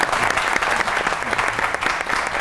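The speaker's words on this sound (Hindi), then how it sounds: "और बड़ी तालियां मारो" A studio audience applauds throughout a Pakistani comedy talk show, a steady dense wash of clapping with no voices over it.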